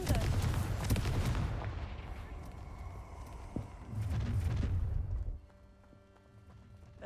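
A spell blast in Hogwarts Legacy booms in loud, rumbling bursts, one early and another midway, then drops to a quieter hum.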